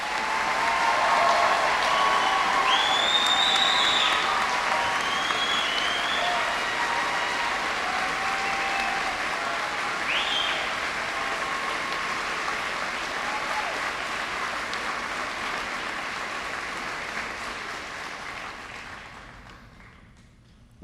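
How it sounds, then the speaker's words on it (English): An audience at a fire recruit class graduation for the Columbus Division of Fire claps loudly and steadily for about twenty seconds, with occasional cheers, before the applause fades away. "Please join me in applauding Class 123."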